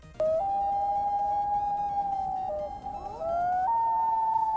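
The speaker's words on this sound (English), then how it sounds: "It almost sounds like a wolf howl." A long, sustained wolf-like howl from an in-game voice call, loud and close, holding one steady tone with a slight pitch step upward near the end, heard alone with no talk.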